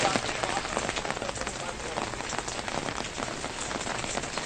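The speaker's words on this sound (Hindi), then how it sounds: "तो आज रात से मुसलसल बारिशें हो रही है" Steady rain in Kangra, Himachal Pradesh, patters densely on surfaces, an even, continuous hiss of drops that stays moderately loud with no breaks.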